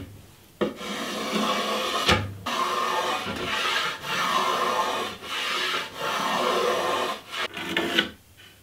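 A hand plane shaves wood along a canoe paddle blade in repeated rasping strokes, each a second or so long, separated by brief pauses, close and clear.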